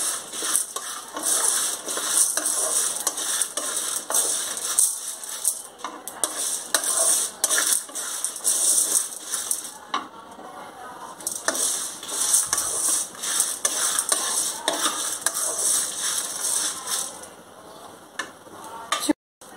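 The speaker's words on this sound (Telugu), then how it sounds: "చింతపండు అన్నీ వేసి ఒకసారి లైట్ గా ఇలా కలిపేసుకోండి" Fried ingredients and tamarind for a drumstick-leaf powder are stirred in a pan, with steady scraping and clinking of the utensil against the pan continuing for nearly twenty seconds, close and fairly loud.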